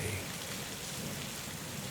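Steady rain falls with a low rumble of thunder underneath, a dense, even wash of sound with no voices.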